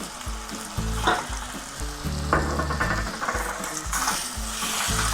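Cauliflower Manchurian vegetables frying in a pan with chili sauce and soy sauce: loud, continuous sizzling and crackling with repeated scraping and knocking of a spatula as the mixture is stirred, no voices.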